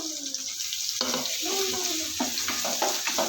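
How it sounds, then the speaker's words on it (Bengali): Onions, chilies and ginger-garlic paste sizzle and crackle in hot oil with intermittent stirring scrapes, a close, busy frying sound with no one talking. "এইভাবে ভাজা করে নেব"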